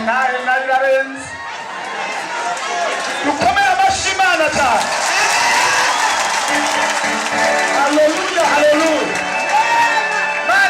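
A church congregation at a Sunday service claps to praise God, with a burst of applause building and spreading through the room while a preacher speaks and voices call out over it.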